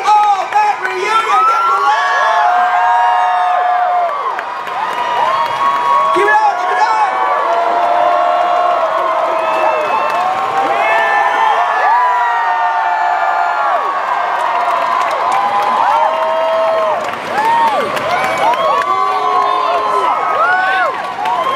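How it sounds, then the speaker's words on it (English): A large crowd at a Comikaze 2015 convention panel for the All That cast reunion cheers, whoops and claps continuously, loud and sustained with many overlapping shouts and screams throughout. "I need you guys to give them a big round of applause. I need you guys to go crazy."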